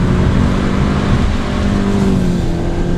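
A 200-horsepower Toyota GT86 weighing about 1.3 tonnes holds high engine revs while drifting, a loud, close, sustained engine drone with a steady pitch that rises slightly and then dips, no voices.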